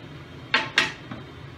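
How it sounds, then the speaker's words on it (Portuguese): A cake is turned out of its pan onto an ovenproof serving dish, making two sharp clattering knocks of metal and glassware in quick succession, followed by a faint softer bump. "Pra desenformar o bolo, eu vou desenformar nessa travessa."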